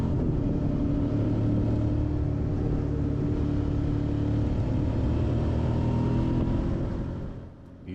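Motorcycles ride along a winding Dolomites mountain pass road, giving a continuous loud engine drone and rumble that stays steady before easing off near the end.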